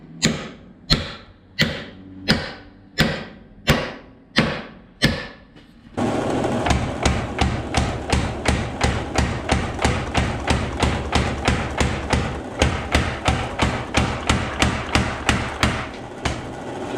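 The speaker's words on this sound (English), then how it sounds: "we have the power hammer back up and running" A Little Giant power hammer striking: first about eight slow, evenly spaced heavy thuds, then a fast continuous run of rapid, loud rhythmic blows with mechanical clatter underneath, with no talk.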